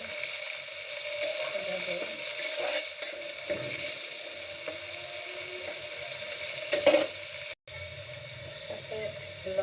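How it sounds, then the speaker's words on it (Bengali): Dried loitta fish (shutki) frying with spices in a pan, a steady soft sizzle running throughout with faint stirring scrapes and a brief break near the end. "একটু ভেজে নেব।"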